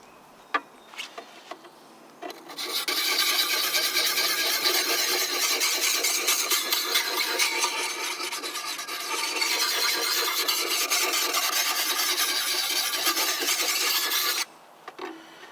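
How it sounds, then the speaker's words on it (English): A hatchet blade is sharpened on an oiled Lansky puck on its fine-grit side, giving a steady, close, loud rasping grind that runs continuously for about twelve seconds with a short dip midway, then stops. "we'll be using our Lansky puck here. I've got the oil on it, and it's on the fine side"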